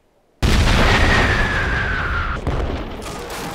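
Gunshot in the western film The Good, the Bad and the Ugly: a sudden loud blast breaks the silence and rings on as a sustained roar, with a second jolt about two seconds later.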